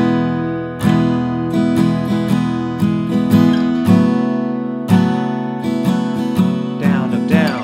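Slow acoustic guitar strumming of a song intro, a played-alone sequence of ringing chords with down-up eighth-note strokes, each strum decaying before the next.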